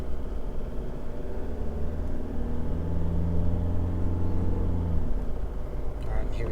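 Car towing a trailer brakes on the road while a REDARC Tow-Pro Elite V3 electric brake controller engages the trailer brakes; steady low engine and road rumble fills the cabin at an even, moderate level.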